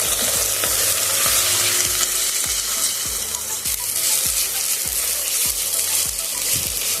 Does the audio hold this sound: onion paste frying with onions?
yes